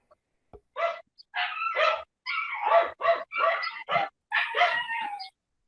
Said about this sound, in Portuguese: Esses cachorros ficam latindo.